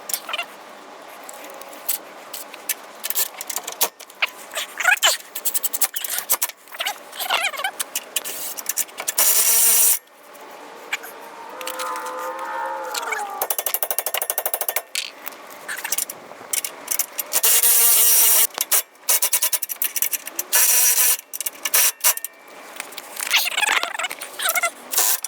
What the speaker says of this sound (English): And now we'll just tighten those down